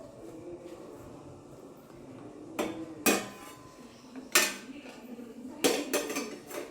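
Black tea being strained into a cup, with a few separate sharp metallic clinks of a strainer and spoon against the cup over a soft background hiss.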